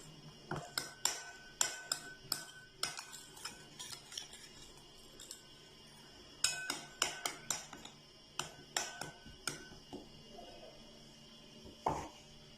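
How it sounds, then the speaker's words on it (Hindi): Spoon clinking and scraping against a bowl while fish masala ingredients with lemon or white vinegar are mixed, a series of sharp clinks in irregular bursts, close and fairly quiet, with no talking. "इन सारी चीज़ों को अच्छी तरह"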